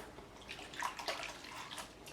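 A guitar part from a 1976 Fender Stratocaster is rinsed in water to remove glue, giving faint sloshing and dripping splashes close by, with no talking.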